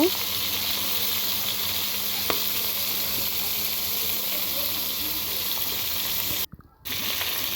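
Poa fish frying in a pan, a loud steady sizzle held close throughout, with one faint tick and a brief dropout near the end.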